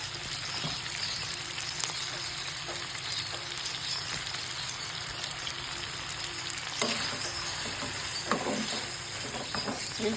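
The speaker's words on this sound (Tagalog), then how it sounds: "Then put the pasta in the frying pan." Spaghetti frying in a frying pan with parsley leaves, a steady close sizzle and crackle running the whole time with occasional stirring scrapes and light patter.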